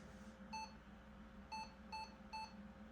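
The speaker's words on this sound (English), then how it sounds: "This is giving a RAM error. At least I'm guessing what that beep is." Several short electronic beeps from an IBM ThinkPad T40 laptop signalling a RAM error, at irregular intervals, a single tone followed by a pair and another, high-pitched and clean over faint background hum.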